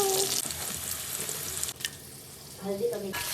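New potatoes with turmeric dropped into a pan of hot oil with ginger, garlic, cumin, coriander and dried chilli, sizzling and frying steadily with a brief burst of stirring or water noise midway.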